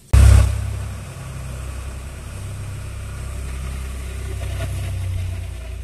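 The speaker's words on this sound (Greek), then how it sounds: "Τα τρόμαξε ο ήχος από το φορτηγό" A truck engine runs nearby, opening with a loud low burst and then settling into a steady mid-low idle rumble that continues with no talk, heard from a kitchen window.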